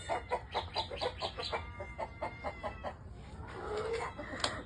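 Rhode Island chickens on a farm cluck close by in quick, steady, repeated bursts, with a softer, busier stretch of flock sounds toward the end.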